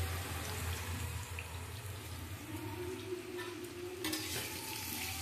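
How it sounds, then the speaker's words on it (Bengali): Potatoes fry in a pan in a home kitchen, giving a steady, continuous sizzle with faint clatter and running-water hiss in the background, unbroken and fairly quiet throughout. "আলু ভাজা হচ্ছে"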